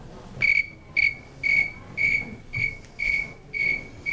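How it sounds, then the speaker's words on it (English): Steady, evenly spaced chirps from a snowy tree cricket, about two per second, each a clear pulsed trill standing out above a soft background hum. "This is something called a snowy tree cricket."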